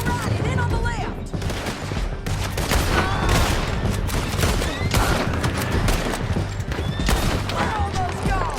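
Rapid gunfire rattles through a canyon shootout in Red Dead Redemption 2 while riders are pursued, with dense volleys of shots running continuously and loud throughout, mixed with hoofbeats and shouted voices.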